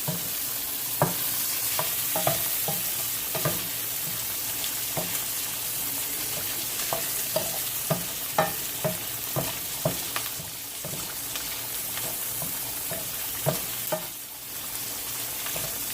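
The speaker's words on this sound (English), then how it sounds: "My plantain is frying." Green plantain sizzles and crackles in a frying pan, a steady frying hiss punctuated by regular light taps and stirs close by.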